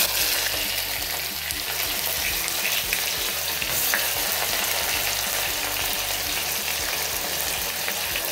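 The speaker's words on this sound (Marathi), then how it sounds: "आपण आता टाकतोय कांदा आणि तेजपान टाकतोय। सगळ्यात आधी आपण कांदा टाकतोय याच्यामध्ये।" Onion and bay leaf hit hot oil and fry in a loud, dense, continuous sizzle that stays steady throughout.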